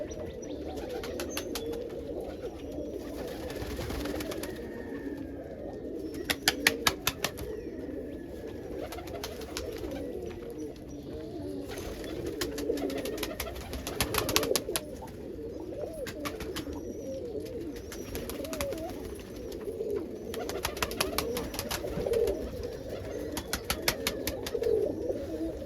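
Roller pigeons cooing inside a loft, soft repeated coos and murmurs from several birds close by, with occasional flurries of wing flapping and light chirps, no talking heard.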